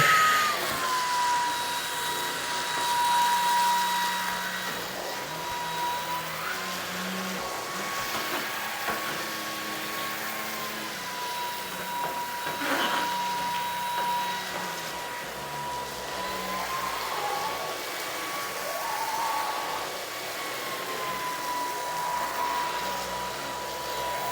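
A Eureka ReactiSense 440 cordless stick vacuum cleaner runs on carpet at its lowest setting, a steady high-pitched whine with an airy rush close by, and brief changes in pitch as the head moves.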